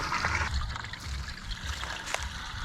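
About five gallons of fuel are dumped quickly into a Kevlar fuel cell on an Enviate Evo, giving a close, continuous gurgling pour and trickle with brief splashy surges.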